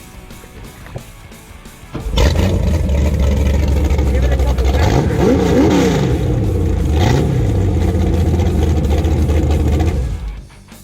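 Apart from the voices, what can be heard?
21ft Ultra SS boat engine revving on river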